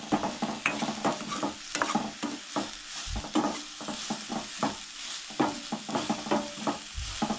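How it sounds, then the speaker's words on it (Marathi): Semolina with grated cucumber and carrot is stirred and roasted in a pan, giving a steady soft sizzle with repeated scraping and stirring strokes, close and fairly quiet. "सो हे बरें मातशें भाजून घेवंक जाय"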